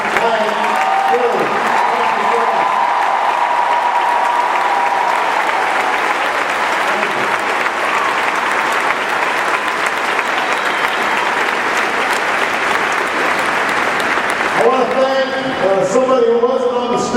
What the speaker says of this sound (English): Please give a huge round of applause to Teresa.